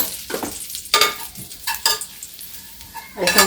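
Flour being lightly roasted in melted butter and oil for a lasagna sauce, a handful of bright scraping strokes of a spoon across a pan over a quiet sizzle, close up with no talking.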